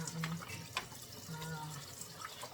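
Tap water runs steadily while a plastic bag is washed in a kitchen, a soft continuous trickle with light splashes and crinkles, fairly faint.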